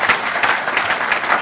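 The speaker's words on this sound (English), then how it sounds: "If you give them a round of applause for this." A crowd applauds steadily throughout, a dense, continuous patter of many hands clapping at once, fairly loud and close.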